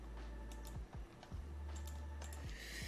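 Keys clack on a computer keyboard while commands are entered in an administrator Command Prompt, a short irregular run of close, moderately loud taps over a steady low hum, with no speech.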